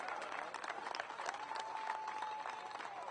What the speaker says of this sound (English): how about a round of applause for the young man that just left the city, Carson Macedo.